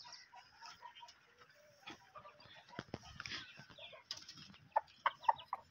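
Aseel chickens cluck softly in cages in an enclosed space, ending in a few sharp, close clucks; no talking.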